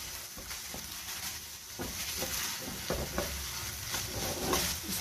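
Chicken mince with ketchup, salt and chili being stirred over high heat, a steady sizzle broken by repeated scraping stirs of a spoon through the pan, close and moderately loud with no talking.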